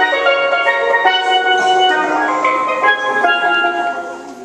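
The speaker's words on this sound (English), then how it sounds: "tenor or lead pan. It has the most notes of any pan" A tenor lead steel pan, the highest-pitched pan with about 28 notes, plays a bright ringing melody of quick struck notes with shimmering sustain, up close and with no talking.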